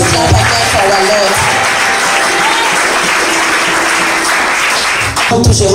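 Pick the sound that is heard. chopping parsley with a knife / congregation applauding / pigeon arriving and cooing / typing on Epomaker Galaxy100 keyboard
congregation applauding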